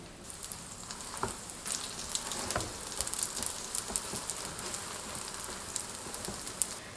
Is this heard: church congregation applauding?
no